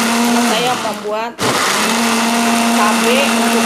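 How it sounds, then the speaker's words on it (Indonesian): Kitchen blender grinding red chilies, shallots and garlic for sambal, a loud steady motor whine that dips and briefly stops midway, then runs on evenly. "Ini kita blender dulu ya."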